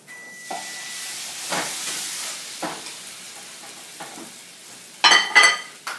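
Turkish water borek cooks in a pan, a soft steady sizzle and hiss with a few muffled bumps, then a brief louder rattle and clatter near the end.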